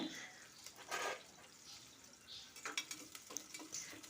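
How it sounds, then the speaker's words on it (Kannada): Two chopped onions frying in oil in a pressure cooker, a soft, steady sizzle with faint stirring scrapes and small bubbling pops. "ಈಗ ಕಟ್ ಮಾಡಿರುವಂಥ ಎರಡು ಈರುಳ್ಳಿನ ಹಾಕ್ಕೊಂಡು ಫ್ರೈ ಮಾಡ್ತಾ ಇದ್ದೀನಿ"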